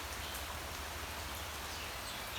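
Steady rain falls with an even, unbroken hiss, nothing else standing out above it.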